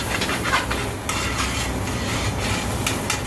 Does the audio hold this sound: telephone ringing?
no